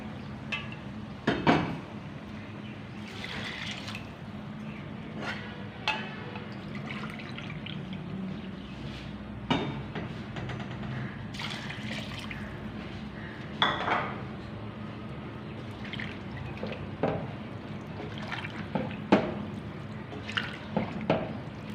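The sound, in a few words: pouring water into rice in a pot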